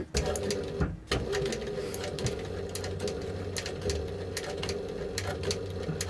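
A sewing machine feeding fabric past its moving needle and presser foot, running in a steady mechanical whir with rapid ticking stitches, briefly pausing near the start, close by.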